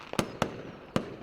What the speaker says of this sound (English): A little firework display going on there.